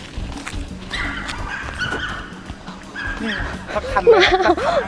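A pet dog at a campsite in Nakhon Nayok barks and yips repeatedly nearby, ending in higher whimpering cries, while people talk throughout.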